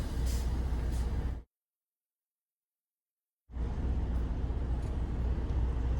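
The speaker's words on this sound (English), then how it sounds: "We'll go ahead and give the tractor a gentle tug going forward." A tractor-trailer engine idles and strains steadily during a gentle forward tug test, a continuous close rumble that cuts out completely for about two seconds before resuming at the same level.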